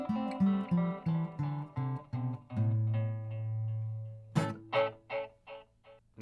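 Notes on an unplugged Lâg Tramontane HyVibe 10 acoustic guitar using its built-in echo effect, each pluck followed by fading copies, then a few sharper strums at the end.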